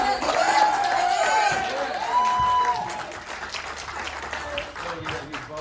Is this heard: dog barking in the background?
no